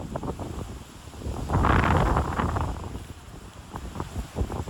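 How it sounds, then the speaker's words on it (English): Strong wind roars across a wintry mountain summit in the trees at Owl's Head, gusting in broad surges that swell loudest midway, with no one speaking. "This wind is brutal, but thankfully these trees are protecting us quite a bit. But you can certainly hear the wind."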